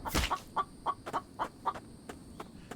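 Chickens in The Infected video game cluck in a quick run of short, moderately loud calls, with a louder burst at the start followed by about ten evenly spaced clucks.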